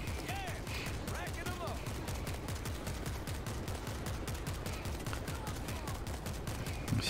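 Gunfire in the video game World War Z, rapid continuous bursts of shots and machine-gun fire rattling throughout at steady loudness, with someone talking over it at moments.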